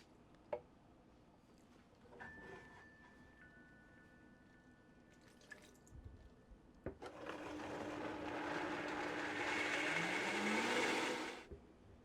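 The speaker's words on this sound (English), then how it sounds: "you're going to throw everything into the blender. Blend it till it's silky smooth" A blender purees golden kimchi sauce at close range, starting after a few faint clicks and knocks and whirring loudly and steadily for several seconds before cutting off.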